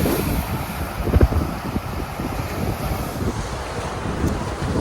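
Waves splash against the Lake Erie shore under steady gusting wind, with a sharper wash of water near the start and a continuous rushing roar throughout.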